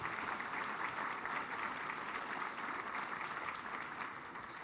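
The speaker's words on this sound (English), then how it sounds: "I think they deserve some applause for that work" A convention hall full of people applauds steadily, a dense wash of clapping that holds evenly and begins to fade near the end.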